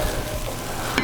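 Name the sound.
shrimp sizzling as they go into the hot pan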